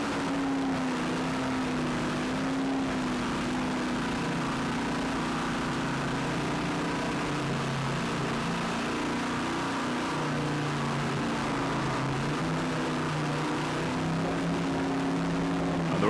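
Racing powerboat engines idle and rumble at the start of a 1997 offshore race, a steady loud drone with a low tonal hum and no clear revving, continuous throughout.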